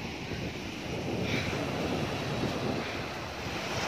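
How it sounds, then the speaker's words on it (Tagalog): Big ocean waves wash steadily onto a white-sand beach at a small resort in Zambales, a constant broad roar of surf mixed with wind buffeting the microphone. "Ang lalaki ng alon."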